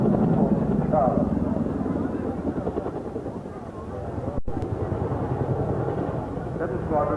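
Chinook helicopter flying at the Cranfield Air Show, a steady rotor and engine drone that stays loud and continuous with a brief break, while a commentator talks over it on the public address.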